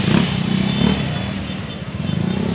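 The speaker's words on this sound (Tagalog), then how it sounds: "Madaming nagmumotor." Motorcycles ride past near Kaybiang Tunnel, a steady low engine rumble that swells and eases slightly as the bikes pass at moderate distance, with no voices.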